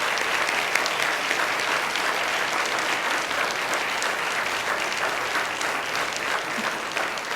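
A hall full of people at a DeKalb neighborhood summit applauds staff and first responders, producing dense, even clapping that stays loud and unbroken throughout, with no talk standing out.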